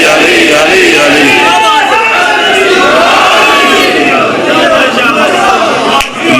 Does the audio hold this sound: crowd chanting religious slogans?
yes